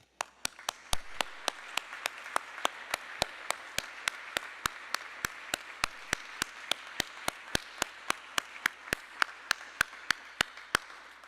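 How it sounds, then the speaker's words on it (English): A synagogue congregation applauds its graduates at a Graduation Shabbat service, a steady wash of many hands clapping with a regular, sharp rhythmic beat running through it for the whole stretch, fairly close and even. "I think it's time to clap."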